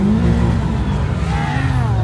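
A car engine revs loudly and steadily at a nighttime-style car meet where people do burnouts, a continuous close rumble with rising and falling pitch, with faint voices mixed underneath.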